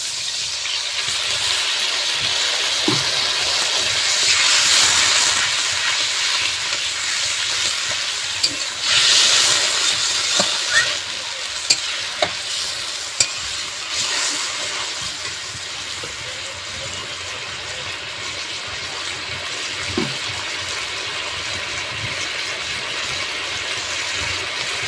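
Water poured into frying masala for an egg and potato curry gravy brings a loud, steady sizzle and hiss with a few sharp clicks of a stirring spoon, continuous and close, no voices.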